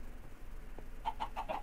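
Chickens in the Minecraft video game, a quick run of four or five short, clipped clucks in fairly close succession over faint background noise.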